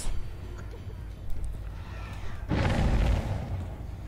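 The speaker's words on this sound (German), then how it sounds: "Den Generator fassen sie jedes Mal an und es knallt jedes Mal" In Dead by Daylight, a generator blows up from the Overcharge perk: a muffled, booming burst erupts about halfway through and rumbles on, heard over low game ambience.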